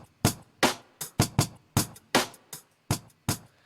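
Drum bus run through a Cymatics soft clipper, a programmed pattern of punchy kick and snare hits in a tight repeating groove, dense and forward with no voice.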